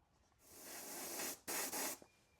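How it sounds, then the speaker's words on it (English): An aerosol can sprays candy pink paint onto a Kyosho Dune Master RC car body in a long hissing burst, then two shorter close bursts after a brief break. "we're going to spray candy pink over most of this body"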